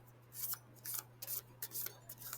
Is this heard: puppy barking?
no